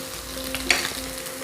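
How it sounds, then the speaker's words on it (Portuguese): Half an onion sizzles steadily as it fries and browns in a pan, with a brief stir partway through and a faint hum beneath the frying. "a cebola está aqui já começando a dourar"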